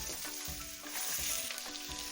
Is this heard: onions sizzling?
yes